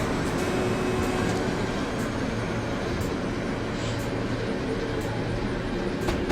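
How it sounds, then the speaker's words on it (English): A Class 73 locomotive in the Train Simulator 2016 game coming to a stop, heard as a steady, loud rumble of rail running noise with a low mechanical hum, unbroken and without talk. "That's it, the train will stop."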